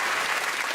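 Studio audience applause on a comedy number-puzzle game show, a short, dense burst of clapping.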